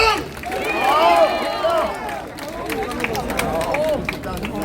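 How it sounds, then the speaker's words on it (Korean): A crowd applauds a 95-year-old Marine veteran at an outdoor rally, clapping steadily over the full stretch, with shouts and cheering voices mixed into the ovation. "힘찬 박수, 뜨거운 박수 부탁드리겠습니다."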